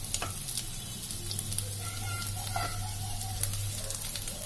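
Potatoes for dum aloo fry in oil in a pan, a close continuous sizzle with crackling pops and occasional louder spatters over a low steady hum.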